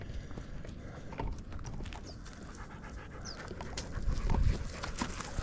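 Rapid, breathy panting from huskies nearby, with scattered footfalls and rustling and a brief thump toward the end.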